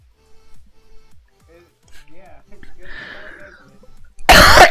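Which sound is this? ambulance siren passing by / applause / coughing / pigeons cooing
coughing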